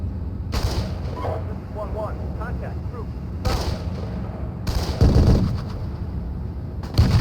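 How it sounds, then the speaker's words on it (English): Heavy gunfire from a .50 caliber machine gun and a BMP's cannon during a treeline fight in the Steel Beasts tank simulator, with repeated loud booming bursts and rattling fire over a steady battle rumble, while someone talks in between. "I don't know if you heard the caliber 50 and the cannon of the BMP responding to it"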